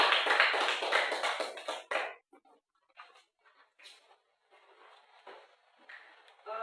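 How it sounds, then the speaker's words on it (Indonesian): A classroom of students claps hands together, a dense burst of applause lasting about two seconds, then scattered faint claps and patter. "Tepuk tangan."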